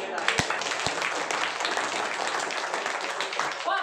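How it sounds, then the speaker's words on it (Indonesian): Audience applause at a seminar on network marketing (MLM) business, a dense, steady wash of many hands clapping at once that fills the whole stretch at an even level. "Aplaus untuk kita."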